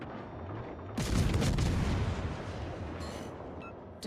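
Naval cannons fire in a warship battle game, including 152mm guns on an Omaha-class cruiser: a heavy broadside boom hits after a low rumble, then its roar slowly decays, with a few faint sharp pings near the end.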